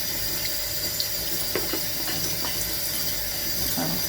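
Tap water running into a kitchen sink while a flexible silicone air fryer tray is rinsed under it: a steady, close hiss and splash that continues unbroken, with light knocks as the tray is handled.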